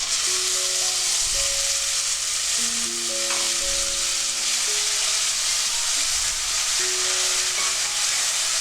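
Tomato paste sizzles and crackles in hot oil for a vegetarian chhanar dalna, a steady, close frying hiss that runs unbroken throughout, with faint tones in the background.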